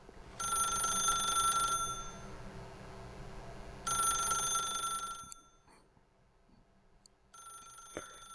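A telephone rings in The Stanley Parable video game: two long, bright electronic ring bursts separated by a pause, then a third ring beginning near the end, loud and alone with no talking.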